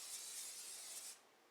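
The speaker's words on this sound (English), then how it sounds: "I'm just going to spray the bowl with some vegetable oil." Vegetable oil sprayed from a can into a bowl in a home kitchen, a steady hissing burst lasting just over a second and then cutting off, close and clear with no talking.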